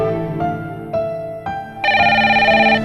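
A telephone rings in repeated electronic bursts, growing into a louder, steady trill, close by with no talking.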